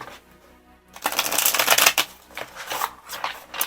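Tarot cards riffle-shuffled close up, a quiet start giving way to bursts of rapid crisp flutter, then a few shorter riffles.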